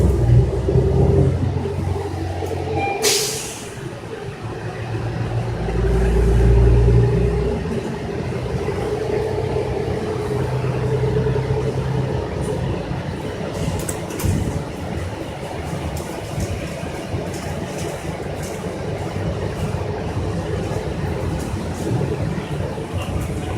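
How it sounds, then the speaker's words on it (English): Inside a 2018 New Flyer XN40 transit bus, Commerce Transit 344, turning left onto Hoffner Avenue from Telegraph Road: a steady low engine and road rumble holds throughout, with a brief rattle early on and cabin noise. "That is a ride on Commerce Transit 344, a 2018 new Flyer XN40"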